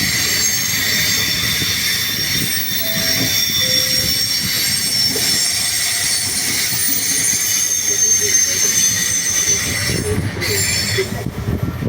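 A regional train pulls into a platform at Padova station, with a steady rumble of rolling stock and intermittent high wheel squeals running throughout against continuous station ambience.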